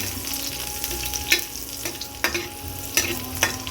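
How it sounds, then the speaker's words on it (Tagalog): Onion frying with garlic in a pan for chicken adobo: a loud, continuous close sizzle with repeated scraping stirs of a spatula at a steady pace. "At saka sibuyas. Pampabango ng ating pagkain."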